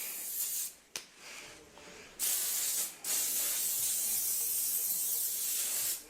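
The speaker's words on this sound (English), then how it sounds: "scalp soothing spray. So I always shake it up, apply just a couple of spritzes" Scalp soothing spray misted onto hair in a few short spritzes, each a breathy hiss followed by a longer steady spray that stays close and fairly loud.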